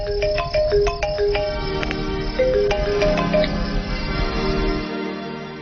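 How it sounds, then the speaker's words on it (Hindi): A mobile phone ringtone plays a bright, plinking melody of repeated electronic notes, loud and close, continuing for several seconds before cutting off. "किसका फोन था ब्रो?"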